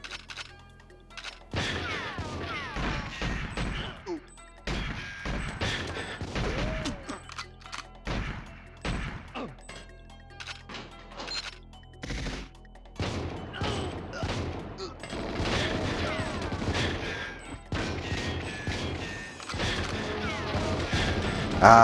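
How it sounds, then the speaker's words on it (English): Filing cabinets explode amid gunfire in the video game GoldenEye 007, with repeated sharp crashes and bursts of shots in irregular clusters, loud and close, over a steady game backdrop. "exploding filing cabinets"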